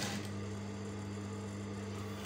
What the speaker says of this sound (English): So I will have to sew at this point